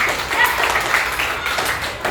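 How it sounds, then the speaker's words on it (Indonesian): Students clapping together in an Indonesian classroom lesson, a short burst of fairly loud, close hand claps with a brief voice-like sound mixed in. "tepuk tangan untuk kita semuanya yuk."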